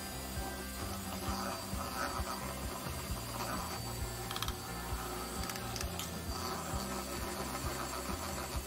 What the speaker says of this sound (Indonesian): Lalu mixer kembali dengan menggunakan kecepatan medium.